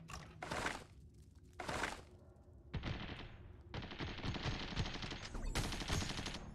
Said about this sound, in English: Why are you shooting towards me?